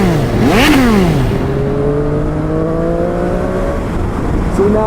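A 2018 Triumph Street Triple R motorcycle engine holds steady in third gear at about 6,000 rpm and 60 mph, a loud close drone with rising and falling revs early, wind rush throughout.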